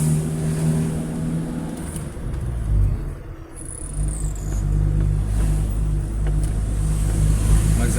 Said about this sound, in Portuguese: Para sair você tem que dar aquela queimadinha de embreagem. Aquela queimadinha, ó, ele não vai, ele fica assim, não vou, aí ele vai.